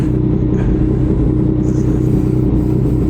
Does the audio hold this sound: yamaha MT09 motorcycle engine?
yes